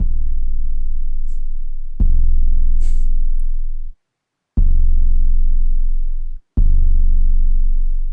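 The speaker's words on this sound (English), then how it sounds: "Now we gotta figure out the bass or the 808" Deep, sustained 808 bass notes playing root notes in an R&B trap beat boom in long held tones, four of them with brief gaps, loud and close.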